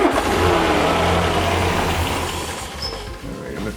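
A 1967 Land Rover Series 2A engine runs loud and close under revving during ignition tuning, a steady rough drone that sags slightly near the end, with no talk.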